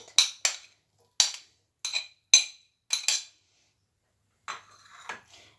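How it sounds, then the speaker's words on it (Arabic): Vegetables drop one by one into an empty bowl, giving roughly nine sharp, close clinks in pairs and singles with brief pauses, followed by softer rustling knocks. "أول حاجة هعملها وهي إن أنا هنزل بكل الخضار اللي عندنا"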